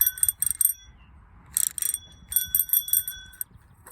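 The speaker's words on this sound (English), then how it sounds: "I love my bike bell" A bike bell on a TR1 bicycle, its heart decoration faded and a screw loose, rings in two quick bursts, then after a pause in a longer series of bright repeated dings, fairly close and with no voices.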